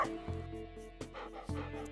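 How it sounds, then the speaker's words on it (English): Short yips and whimpering barks from a pet dog in the farming video game Stardew Valley sound in three quick bursts over a steady background tone of game music, fairly faint. "Doggy!"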